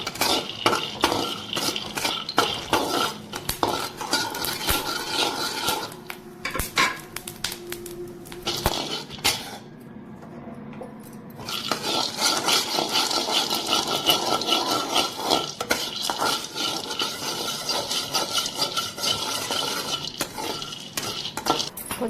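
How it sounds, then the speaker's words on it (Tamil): Peanuts roasting for ragi balls are stirred and scraped around a pan, giving a steady, dense rattle and clatter of utensil on metal with a brief lull partway through. "ராகி உருண்டைக்கு வேர்க்கடலை வறுத்துக்கலாம்."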